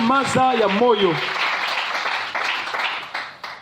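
A church congregation bursts into sustained applause for the Lord, a broad wash of clapping that follows a short spoken phrase and carries on steadily before gradually thinning out.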